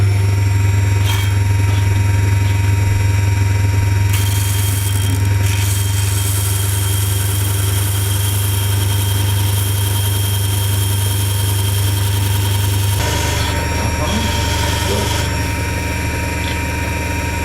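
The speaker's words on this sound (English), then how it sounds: "Close up again to disc sander" A disc sander's motor drones loudly and steadily while a wooden gun-carriage side for a model ship is pressed against the spinning disc, with the tone shifting briefly as the wood makes contact.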